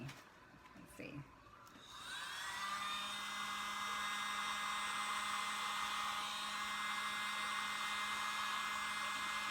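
A hair dryer switches on after a brief rustle and then blows a loud, steady whine across an acrylic Dutch-pour painting, holding its pitch without interruption to the end.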